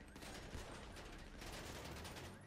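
Rapid gunfire erupts during a Fleeca bank heist in GTA 5 Online, a dense, continuous burst of overlapping shots filling the whole stretch with little pause.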